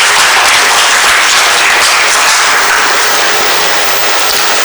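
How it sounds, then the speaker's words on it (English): Loud, sustained audience applause fills a forum hall, a dense continuous wash of many hands clapping with no voices above it. "I thought there should be a clap at this point."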